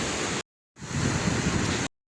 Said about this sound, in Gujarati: ભવાની માતાના મંદિરની બિલકુલ નીચે આ રીતે દરિયો કિનારો છે.